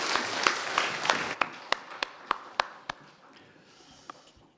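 A church congregation at a Sunday service claps in a brief rhythmic burst, about a dozen sharp unison claps slowing and thinning out, close and fairly loud.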